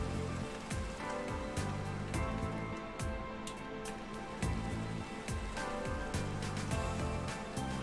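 Steady rain falls in the Space Valkyria video game, a dense, even patter of drops with faint scattered ticks, continuous and fairly quiet throughout.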